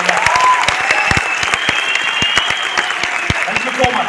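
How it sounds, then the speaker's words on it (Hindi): An audience at a success celebration event in Noida claps loudly on request, a lively, near burst of hand claps with distinct individual slaps standing out over a steady wash of applause. "एक बार जोरदार तालियां बजाओ।"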